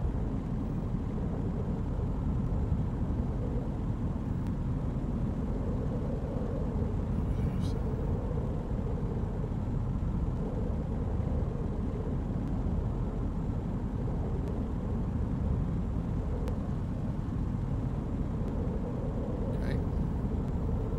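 A light aircraft engine drones steadily at a reduced power setting in a flight simulator, a constant low hum filling the whole stretch beneath an instructor's voice.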